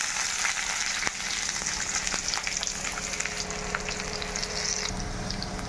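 Oil fries in a wok with a loud, continuous sizzle and occasional scraping stirs, heard up close with no talking.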